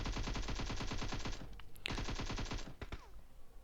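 Automatic gunfire from the mobile battle-royale game PUBG Mobile rattles in long rapid bursts, pauses briefly, then resumes before trailing off into scattered single shots.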